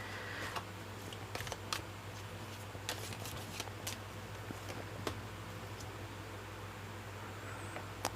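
Tarot cards are shuffled and drawn close by, giving soft, quiet riffling with scattered light ticks and taps over a faint steady hum.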